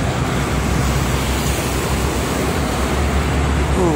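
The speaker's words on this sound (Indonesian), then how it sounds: "Anginnya tambah gede." Strong wind buffeting on the Jakarta–Cikampek toll road in the morning, a loud, steady roar of rushing air blended with traffic noise, continuous and close throughout.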